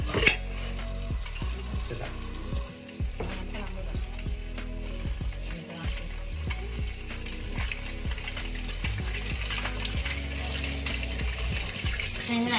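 Dishes clatter and clink at a kitchen sink while water runs steadily from the tap, a busy close-up wash with frequent knocks of plates and utensils over the constant splashing flow.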